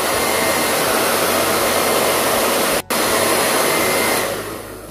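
Hair dryer blowing on adhesive to dry it for a crackle paint finish: a loud, steady whooshing whine that briefly cuts out once near the middle, then resumes and fades slightly at the end, with no talk.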